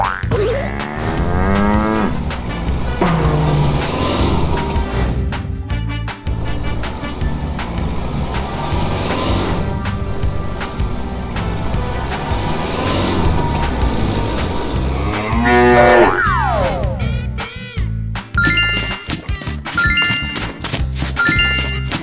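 Cartoonish cow moos sound repeatedly among busy, shifting electronic effects and other animal-like calls, all loud and close throughout.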